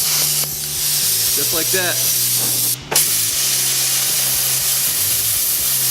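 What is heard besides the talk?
Hypertherm Powermax 45XP plasma cutter piercing and cutting metal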